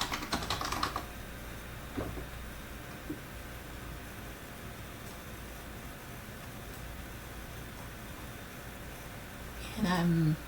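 Soft computer keyboard typing ticks along while text is added to a slide, faint scattered keystrokes over quiet room hiss, with a brief voice near the end.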